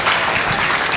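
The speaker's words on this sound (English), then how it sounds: "Let's give that young man a very nice round of applause." A crowd at a county fair rodeo junior livestock show gives a dense, steady round of applause, heard close and loud throughout the brief moment.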